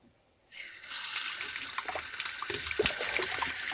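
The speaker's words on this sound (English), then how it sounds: "we have running water." Water gushes from a tap on newly installed plumbing at a shipping container home, starting abruptly after a brief near-silence and then running steadily and fairly loud, with a few splashy spatters.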